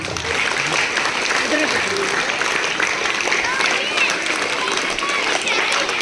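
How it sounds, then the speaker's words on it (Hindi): An audience at a school annual sports prize distribution applauds. Dense, steady clapping fills the whole stretch at an even loudness, with a crowd murmur mixed in. "आप लोग ताली बजाते रहें।"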